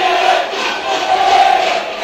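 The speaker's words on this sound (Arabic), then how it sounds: "عايز اسمع الجمهور يقول ايه" Al Ahly football supporters chant in unison inside a packed stadium, a loud, continuous roar of massed voices sustained throughout.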